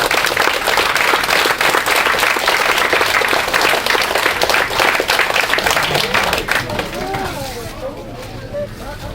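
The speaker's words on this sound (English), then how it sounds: "So if we can just have a round of applause for the mums." Wedding guests applaud the bride's and groom's mothers during the groom's speech, loud close clapping that thins out near the end as a voice begins speaking.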